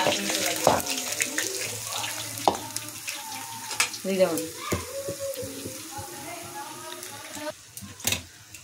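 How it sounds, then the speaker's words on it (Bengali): Rupchanda, pomfret, frying in hot oil in a pan, giving a continuous sizzle broken by sharp spatula scrapes and clanks, with running water and a voice intermittently over it. "মাছ ভাজা হয়ে গেছে"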